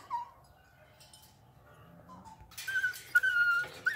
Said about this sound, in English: And I think my little dog wants to say hi.